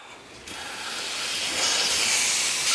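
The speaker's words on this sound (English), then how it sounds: "I'm gonna turn the heat down, low medium, and now I'm gonna go ahead and add my butter." Butter hits a hot pan of roasted chestnuts on low-medium heat, setting off a sudden loud sizzling hiss that keeps building and stays steady, close up.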